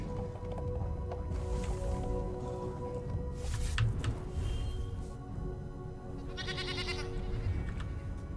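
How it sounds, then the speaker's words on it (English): A goat bleats in a card video game, a few wavering cries over a dense bed of game music and sound effects with bright chimes near the end. "That's a goat."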